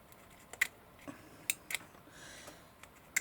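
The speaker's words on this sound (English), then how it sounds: "It's kind of sticking to my scissors, but I am able to snip it." A few sharp, crisp snips of scissors, spaced irregularly, close up and fairly quiet with a soft background hiss.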